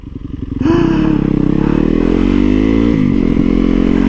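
A bobber motorcycle engine, built for torque, cranks up from a low idle into a loud, steady rev with a dense harmonic roar, close and held for several seconds with a brief dip near the end.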